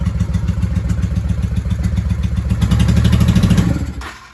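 A 1995 Honda Shadow VLX VT600CD motorcycle with dirty carburetors runs close by in a loud, rhythmic, slightly uneven idle, briefly rising in a revved burst before dropping off near the end.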